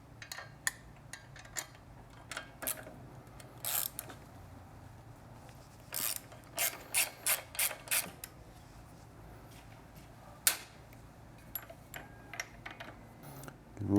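Sparse, irregular ratchet clicks from a 12mm wrench turning a 6mm hex bit on a Triumph motorcycle exhaust, in short bursts close by with quiet gaps between.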